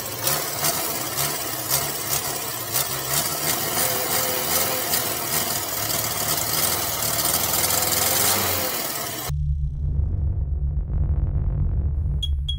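A Renault 4L engine runs steadily and loudly, a dense mid-pitched mechanical drone with a rapid ticking rhythm, then cuts suddenly to a low residual rumble near the end; no talking.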